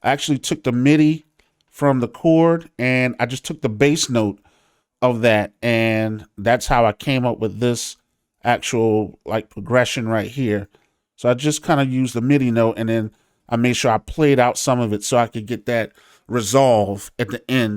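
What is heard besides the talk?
No everyday noise stands out behind the speech.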